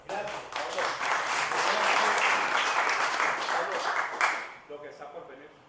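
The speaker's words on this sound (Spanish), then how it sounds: "Un aplauso para Fresa" A group at a homeless devotional gathering breaks into loud, dense applause that holds steady, then tapers off into scattered claps and a murmur of voices near the end.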